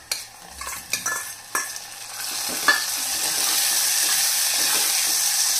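Tomatoes tipped into softened onions in a clay pot, then stirred with a utensil: a few scraping stirs and knocks at first, followed by a steady, close sizzle that carries on without talk.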